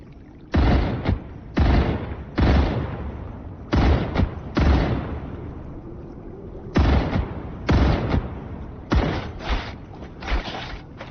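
Bursts of sci-fi gunfire from a co-op factory-building shooter, loud clustered volleys of shots in several separate bursts with short pauses between, close and dominant.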